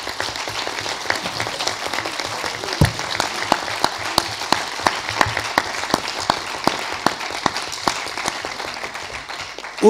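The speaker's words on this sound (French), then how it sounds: "Je voudrais que vous applaudissiez chaleureusement les 25 étudiants" Audience applauds graduating students at a university event, steady sustained clapping from a room full of people with a few sharper individual claps standing out near the microphone.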